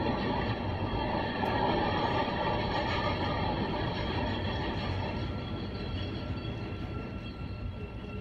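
A train rolls steadily along the rails with a constant close rumble and rattle, fading slightly toward the end. Nobody speaks.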